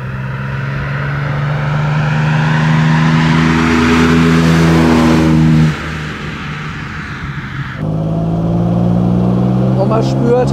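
A 1955 Jaguar XK140 drophead coupé engine revs loudly under way, a steady strong drone that eases off briefly midway before building again, with interior cabin resonance and talk over it.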